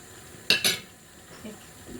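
A utensil clatters twice against a pan while mixed vegetables are being stir-fried, two sharp close knocks followed by faint scraping in an otherwise quiet kitchen.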